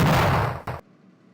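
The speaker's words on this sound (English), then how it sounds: "I think someone made earthquake sound. I think it is earthquake." A loud, rumbling blast like an earthquake booms in the video game Cubemaster 2000, a broad roaring burst that fades and then cuts off abruptly into near silence.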